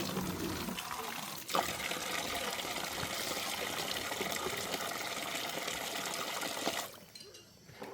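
Water running steadily while something is washed, a continuous close splashing flow for several seconds that cuts off near the end, with faint talk in the background.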